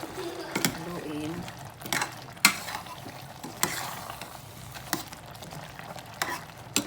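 A spoon stirs jackfruit simmering in coconut milk in a pot, with irregular scraping and clacking strokes against the pan over a soft bubbling sizzle, close and moderately quiet.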